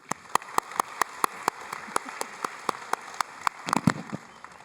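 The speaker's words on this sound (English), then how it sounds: "Please keep that round of applause going as we welcome our next speaker" Applause from a gala audience at an anniversary celebration, heard as sparse, distinct hand claps in a steady rhythm that read more like a scattered clapping than a dense ovation, with a few louder claps near the end and no talk.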